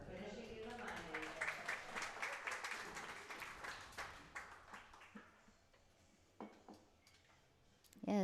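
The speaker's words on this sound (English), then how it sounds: "Applause for Alice Adams for finishing in the money." Applause rings out at a women's pro pool tournament, a scattered patter of clapping from a modest crowd that thins out over several seconds while commentators talk over it.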